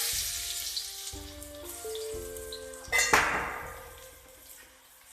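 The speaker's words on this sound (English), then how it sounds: "Once the oil is hot, we need to add some garlic" Garlic drops into hot oil in a pan over a very high flame and hisses in a sudden sizzle that fades away, with steady background music playing underneath.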